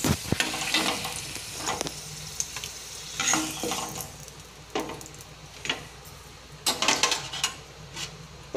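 Potato pieces fry lightly in hot oil in a pan while being cooking for an egg masala curry, a steady sizzle broken by repeated stirring scrapes and clinks of a spoon against the pan.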